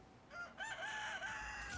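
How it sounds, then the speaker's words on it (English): A rooster crows cock-a-doodle-doo in the real-time strategy video game Stormgate, one clear, fairly loud call of rising and falling pitch that carries on to the end with no talking over it. "we do have the cock-a-doodle-doo of the morning cry"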